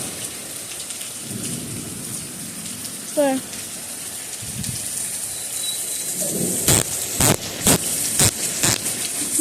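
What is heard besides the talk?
rain falling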